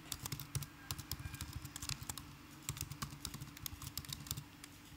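A computer keyboard typed on at close range, with rapid, fairly quiet key clicks in irregular bursts over a faint steady background hum.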